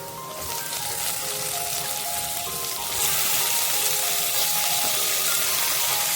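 Brinjal and onions sauté in hot oil, a crackling, spitting sizzle that grows noticeably louder and fuller partway through, heard close with no voices.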